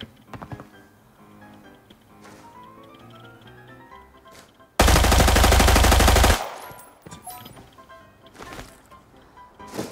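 An MPX fires in a shooter video game as one loud continuous burst of automatic fire lasting under two seconds, set between quieter game effects.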